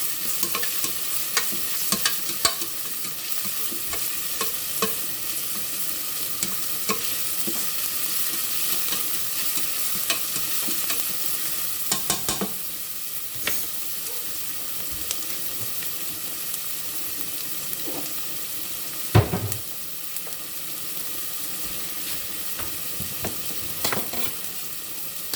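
Garlic and onions sauté in a pan for a meatball sauce, giving a continuous hiss of frying broken by intermittent scrapes and taps of a utensil, with no one speaking.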